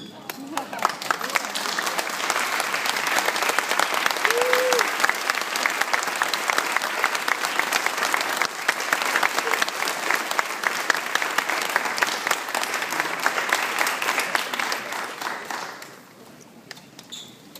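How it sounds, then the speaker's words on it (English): An audience rises in a standing ovation at a high school hall of fame induction ceremony, sustained loud applause from a large crowd that fades out near the end. "so we all need to rise and clap for Captain Ross Pixler."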